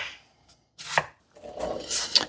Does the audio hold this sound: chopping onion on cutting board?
yes